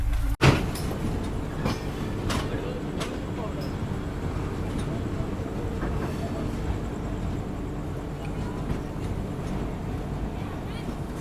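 The Anand Vihar–Raxaul Sadbhawna Express rolls into Chandausi Junction railway station, giving a steady low rumble and clatter of rail cars with a sharp knock near the start, while people talk over it.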